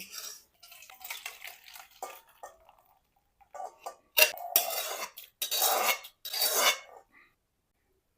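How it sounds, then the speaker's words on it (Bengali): Okra and puti fish sour curry is poured out of a cooking pan with bursts of metal-on-metal clatter and scraping. The bursts come in irregular clusters and grow louder and denser in the second half. "টকটা আমার হয়ে গেছে এখন ঢেলে নেব"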